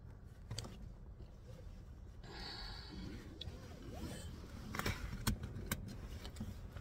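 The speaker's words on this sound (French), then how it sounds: "Alors, je vais mettre ma ceinture." Inside a car during a driving lesson, a seatbelt is pulled out and buckled with a few sharp clicks and rustling, close but faint in a quiet cabin.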